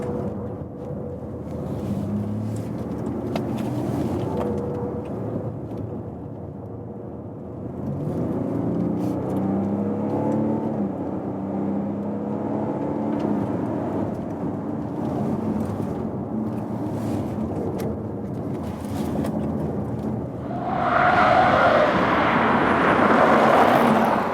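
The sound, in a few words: BMW X4 engine while driving through corners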